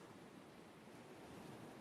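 Ocean wave ambience in a video game: a faint, steady wash of surf noise, soft and continuous with no distinct breaks, heard alone.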